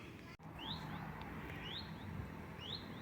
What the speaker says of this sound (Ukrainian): Мені здається, що це пташенятко кличе маму